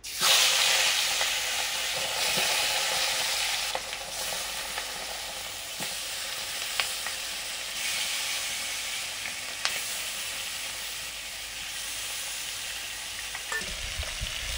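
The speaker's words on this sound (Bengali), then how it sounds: "মাছ ধুয়ে এনে নুন হলুদ মাখিয়ে নিয়েছি, মাছ ভাজছি" Pieces of rohu fish rubbed with salt and turmeric fry in hot oil, giving a steady, close sizzle and crackle that carries on alone, with a few faint clinks.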